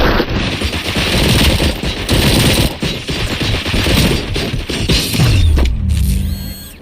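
Sustained automatic gunfire rings out in a RoboCop action scene, dense overlapping bursts filling the clip before a sudden descending whine and sharp metallic tones near the end.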